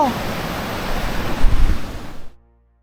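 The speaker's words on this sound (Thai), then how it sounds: "น้ำตกลาธารนี่คือชุ่มฉ่ำสุดๆ" A waterfall and stream at Khao Chong Lom in Nakhon Nayok rush with loud, continuous broadband water noise close by, swelling slightly before cutting off abruptly near the end.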